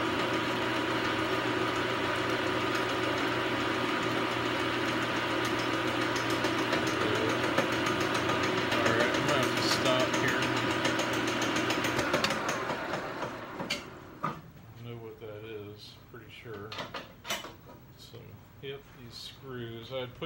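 Metal lathe running with loose screws rattling inside its spider attachment, a steady close mechanical hum with busy metallic rattle for about twelve seconds before it winds down and someone speaks.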